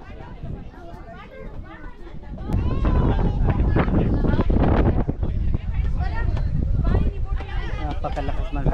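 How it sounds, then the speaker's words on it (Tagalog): Strong wind gusts outdoors at the Big Buddha (Tian Tan Buddha) site, rising to a loud, steady roar buffeting the microphone while a person talks over it. "Napakalakas ng hangin dito."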